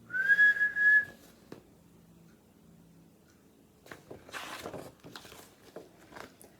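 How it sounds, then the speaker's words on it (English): A whistle blown in a single sustained shrill tone at the start, followed by quiet and then scattered soft rustling and tapping noises. "Mum had to blow her whistle."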